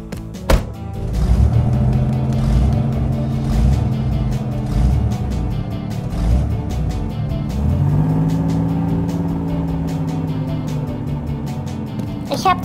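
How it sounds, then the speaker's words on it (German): A toy tractor drives along with a steady, droning motor whine that shifts pitch partway through, with voices talking over it. "Mein Traktor hilft dir."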